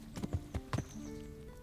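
Horse hooves clip-clopping in the medieval game Kingdom Come: Deliverance, a few close, quiet, evenly paced hoof strikes over a soft background hum.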